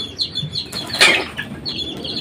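Small chicks of a pet hen peep and flutter close by, with a run of thin high chirps and a brief burst of wing flapping in the middle, no talking.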